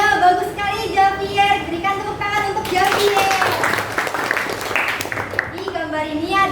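Children in an elementary classroom clap together for a classmate during a lesson. A short burst of clapping lasts a couple of seconds, with a teacher's voice talking before and after it.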